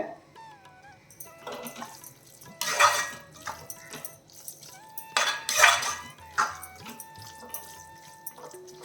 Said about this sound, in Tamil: இதெல்லாம் நல்லா மிக்ஸ் பண்ணிவிட்டு ஒரு நிமிஷம் நல்லா கலர் எடுப்போம்.